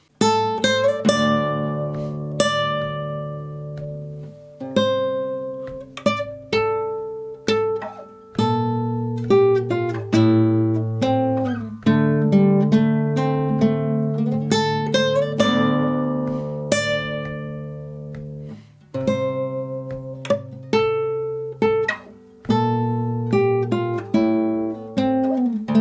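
A lone guitar works through the B section of a theme from The Witcher 3: Wild Hunt, steady plucked melody over ringing low bass notes in clear repeating phrases, close and unaccompanied.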